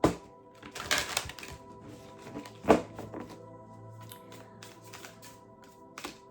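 Tarot cards shuffled by hand in a quiet room, with soft riffling bursts and taps scattered across several seconds, close and fairly faint, with no talking.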